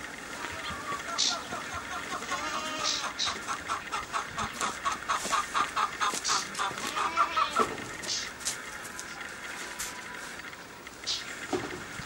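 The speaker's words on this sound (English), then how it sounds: "Chickens." Chickens cluck in a neighborhood near Tel Hebron, a steady run of close, overlapping clucks and squawks for most of the stretch, with voices talking in the background.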